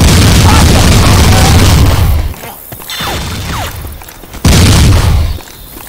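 Gunfire in the zombie shooter Left 4 Dead 2, a loud dense burst of booming shots for about two seconds, then a quieter stretch of scattered clanks and effects, and another abrupt loud burst near the end.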